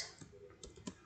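Faint, sparse keystrokes tap on a computer keyboard, a few soft, irregular clicks close to the microphone in a quiet room.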